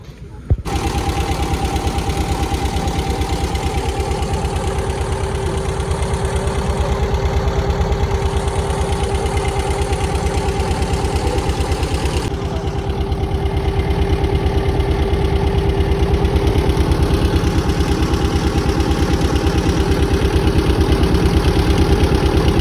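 Outboard motorboat engine running steadily and loudly throughout a ride back to a village after a jungle trek near Vasota Fort, a continuous close drone with no talk.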